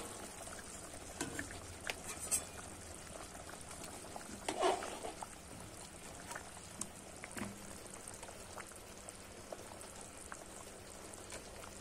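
A Bengali curry broth with fried bora simmers in a pot, giving a quiet, steady bubbling and occasional soft pops over a faint background hum.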